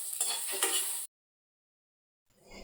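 Peanuts dropped into hot oil for curry leaf powder crackle and sizzle briefly, close and bright, then cut to silence before a faint sizzle returns at the end.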